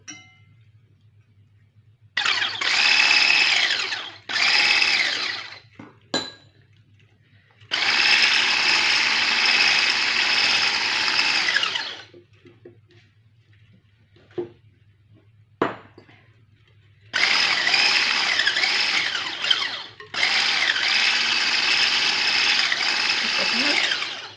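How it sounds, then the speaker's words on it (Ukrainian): A blender whirs loudly in several long bursts whipping cream, stopping and restarting, with brief clinks and quiet pauses between runs. "І це все я буду збивати блендером"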